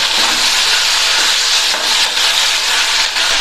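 Brinjal and tomato sautéing in hot oil in a pan for a brinjal dal dish: a steady, loud sizzling hiss, close and continuous, with no talking.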